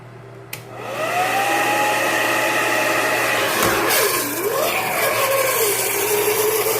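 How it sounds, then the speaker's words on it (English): After dropping into a sink of water, a blow dryer keeps running with a steady loud whir, its pitch rising and dipping as the motor strains, after a brief splash at the start. "the blow dryer is still functioning"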